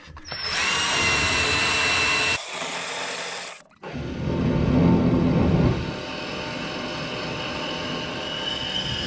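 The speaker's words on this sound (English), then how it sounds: "Okay, I've marked this wall right here where I need to drill that hole." A power drill whines loudly as it bores a hole through an interior wall for a gas or water pipe, pausing briefly partway through, then grinding on steadily until the end.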